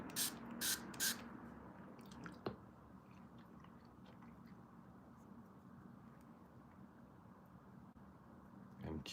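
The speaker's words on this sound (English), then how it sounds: "Let's see if this glitter fixes with the spray." Makeup setting spray misted from a spray bottle over glitter eyeshadow from a neon palette: three quick, close hissing spritzes at the start, followed by quiet rustling and low room murmur.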